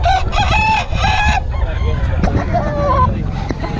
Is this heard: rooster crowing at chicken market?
yes